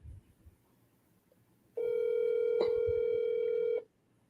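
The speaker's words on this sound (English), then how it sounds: "Can you hear the ringtone?" A steady electronic telephone ringback tone sounds for about two seconds after quiet room noise, then cuts off cleanly; no one speaks.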